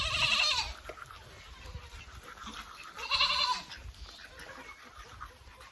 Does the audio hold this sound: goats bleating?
yes